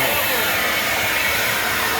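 Ego electric backpack leaf blower pushing piled leaves along a street, a loud, steady broadband whoosh of rushing air held close and constant throughout.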